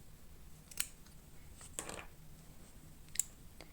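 Scissors snip through fabric while a stuffed toy tiger is being sewn, a few quiet, separate cuts close by with a longer rustling cut in the middle, no talking.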